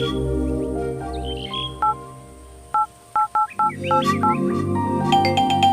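Telephone keypad dialing tones beep in a short irregular burst of about five presses over background film music and chirpy effects in a Kannada movie scene, as a call is placed.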